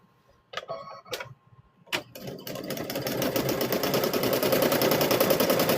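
A sewing machine stitches a quilted Halloween gnome wizard tote bag: a few short taps and clicks at first, then a steady, rapid mechanical whir that grows gradually louder and keeps running to the end.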